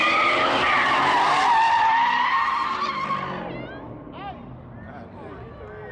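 Ford Mustang GT tires skidding hard while drifting, a loud sustained squeal that slowly fades over the first few seconds before voices talk over the lower engine and tire noise.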